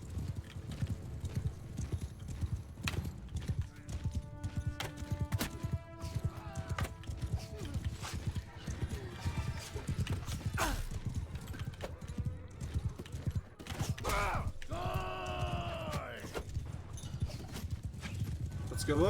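A mounted troop of horse archers galloping in the game Mount & Blade II: Bannerlord, with dense rapid hoofbeats throughout, whinnies breaking through near the end, and battle voices calling out over the hooves.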